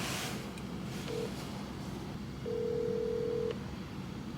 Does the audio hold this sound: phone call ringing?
yes